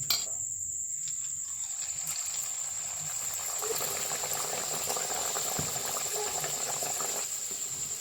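Naan paratha frying in hot oil gives a steady, close bubbling sizzle that stays even throughout with no talking.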